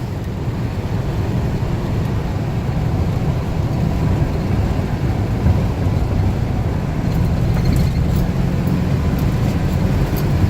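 1974 Pontiac Grand Am sedan with a 400 engine cruising at highway speed, a steady low engine drone mixed with road and wind noise, constant and unbroken throughout.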